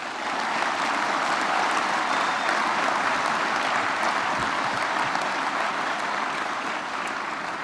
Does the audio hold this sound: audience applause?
yes